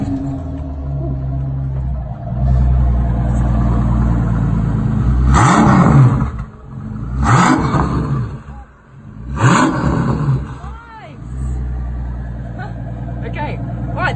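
A Maybach concept supercar engine starts, then revs sharply in three or four rising and falling bursts, loud and close, with people talking over the idle between the revs.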